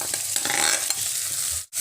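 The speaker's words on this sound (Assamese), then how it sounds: "এইখিনি তেলতে মই পিঁয়াজখিনি ভাজি ল'ম" Onions fry in oil with spices, a close, steady sizzle with light stirring scrapes throughout, no voices, ending in a brief pause.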